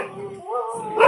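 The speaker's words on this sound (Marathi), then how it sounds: "कुत्रे बघा कसे ओरडतात" Dogs let out a short, whining, howl-like yelp that rises and falls over about a second, close and fairly loud, ending in a sharper burst.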